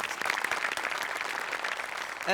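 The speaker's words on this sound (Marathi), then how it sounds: "एकदा जोरदार टाळ्या त्यांच्यासाठी सुद्धा" Studio audience clapping for journalist guests on a comedy show stage, a short burst of continuous applause, full and fairly close, with no talking over it.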